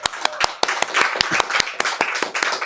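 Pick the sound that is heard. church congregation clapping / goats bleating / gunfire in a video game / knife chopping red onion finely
church congregation clapping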